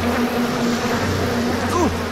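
Close, steady buzzing of a wasp swarm in the video game BioShock Remastered, with a sustained droning hum and a brief rising whine near the end.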